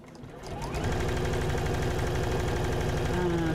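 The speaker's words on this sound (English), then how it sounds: "Foot down, a little bit of a back stitch." A sewing machine stitching a seam on a fabric pouch, starting up and running at a steady fast rhythmic chatter with a motor hum, close and unbroken, with no voices.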